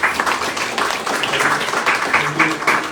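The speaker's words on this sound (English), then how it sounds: "Give them a lovely round of applause" An audience claps and applauds at an evening devotional satsang gathering in a home on St Croix, US Virgin Islands; the clapping is moderately loud and continuous, with voices mixed in.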